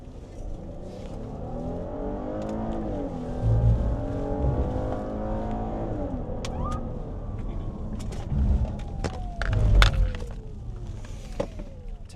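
Car engine on an interstate heard from inside a police vehicle in pursuit of a red car going 99 mph, a steady revving drone that rises and falls, with sharp clicks and knocks over the road noise.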